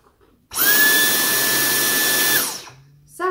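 A small cordless vacuum cleaner whirs on abruptly with a high-pitched whine, runs steadily for about two seconds over a rug, then winds down; a brief click follows.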